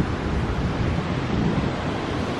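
Sea waves roll onto a winter beach in Italy in a continuous loud roar, and strong wind buffets the microphone, with no voices.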